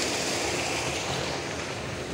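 Water pours into a large water tank beside a hill, a steady broadband rush like surf that runs without a break, close and fairly loud, with no voices.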